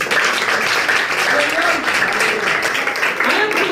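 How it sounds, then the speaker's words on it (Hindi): Children clap in a church gathering, a steady patter of applause with voices calling out over it. "तो इनके लिए बच्चों जरा तालियां बजाएं।"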